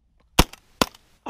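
Shotgun blasts from pigeon hunting: two sharp reports a little under half a second apart, each with a short echoing tail, and a third starting at the end, with no talk.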